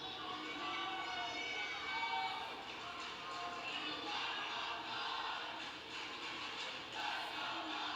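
Crowd noise from a high school wrestling match cheering section at a state championship, a steady murmur and chatter of many voices filling the arena throughout, without sharp peaks.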